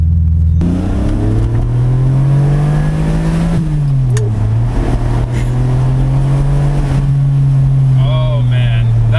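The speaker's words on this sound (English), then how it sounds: "It's so cool to be driving a gated manual Ferrari V12." A gated-manual Ferrari V12 drives at low speed near 45 mph, its engine droning steadily with a rising rev, a brief lift-off and re-acceleration, loud and close from inside the car.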